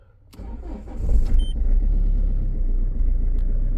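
A click, then a diesel engine in an Australian Ford cranks without glow plugs and catches, settling into a steady low rumbling idle close by, with a warning beep.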